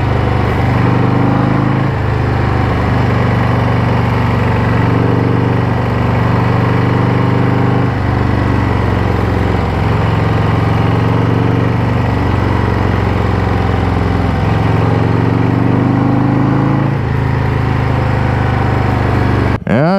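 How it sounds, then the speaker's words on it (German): A Harley-Davidson Low Rider ST motorcycle engine idles close by with a deep, loping rumble that rises and falls in slow, regular cycles, ending in a brief click. "Ich finde, man hört den Motor wirklich auch sehr gut."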